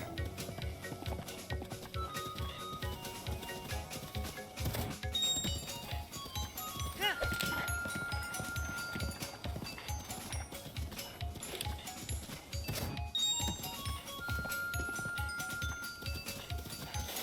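Horse hooves clip-clop in The Legend of Zelda: Breath of the Wild as a steady, rhythmic patter of game footsteps. Game music plays with it, and someone talks now and then.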